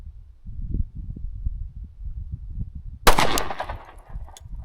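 A 10mm Glock G20 pistol with a 4.5 inch barrel fires a single sharp, close gunshot at an outdoor target range, standing out above a low rumbling background.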